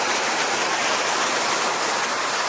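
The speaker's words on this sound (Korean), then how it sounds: "지금 여러분들 파도 소리 한번 들어보세요." Ocean waves at Waikiki main beach in Hawaii make a loud, steady wash of surf, a continuous broadband roar with no distinct breaks or voices.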